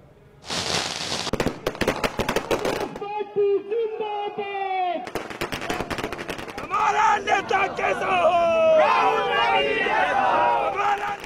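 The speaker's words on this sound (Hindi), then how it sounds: "कहीं दिवाली की रौनक है तो कहीं आतिशबाजी का शोर है" Rapid crackling bursts of fireworks pop in dense volleys at a Congress party office celebration, mixed with whistling and a crowd's cheering voices, loud and close.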